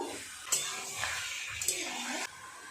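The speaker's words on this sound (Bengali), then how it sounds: "আলুগুলোর সাথে মশলাটাকে আরেকটু ভালো করে কষিয়ে নেব" Boiled potatoes being stir-fried with spices in a pan, a steady sizzling hiss with brief scraping stirs, close and fairly quiet, cutting off near the end.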